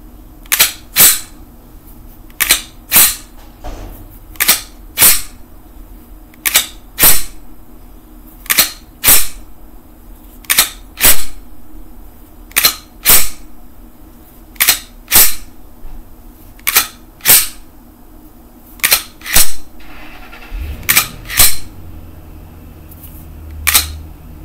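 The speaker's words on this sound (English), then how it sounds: "a 10 slide salute for Gaston Glock" Glock pistol slides racked over and over in a salute, sharp metallic clacks coming in quick pairs at a steady rhythm, close and loud, with no talking.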